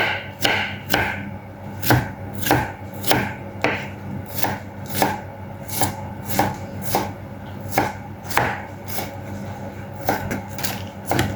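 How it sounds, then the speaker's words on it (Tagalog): A white onion finely chopped with a knife on a cutting board, a long steady series of crisp, close, rhythmic knife strikes with no talking. "Hiwain natin ng maliliit yung ating onion."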